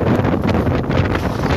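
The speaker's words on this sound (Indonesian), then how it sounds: "detik-detik angin kencang menyapu wilayah pesisir Mamuju" Strong wind gusts roar steadily across the coastal beachfront of Mamuju, West Sulawesi, buffeting market tents and a stage, a continuous loud rushing wind with microphone buffeting and no clear voices.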